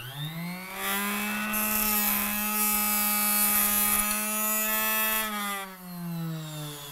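A D-cut arrow saw cuts through a hunting arrow shaft, a steady high motor whine that rises into a gritty cutting rasp for several seconds as the shaft is spun, then settles back.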